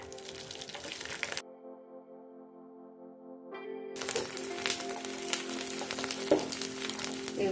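Sabudana cakes frying in hot oil, a steady crackling sizzle that drops out briefly and then returns, close and fairly loud, with no voices.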